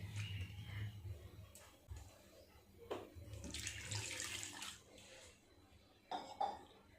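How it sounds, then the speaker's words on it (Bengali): Water poured from above to rinse fresh chhana cheese curds, a faint running splash with soft clinks of a vessel and a cough in a quiet kitchen. "উপর থেকে একটু জল দেব, দিয়ে সুন্দর করে ছানাটা ধুয়ে নেব।"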